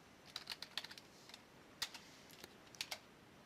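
Light keystrokes on a computer keyboard, a short burst of close, crisp taps, a pause, a single tap, then a couple more, quiet and alone.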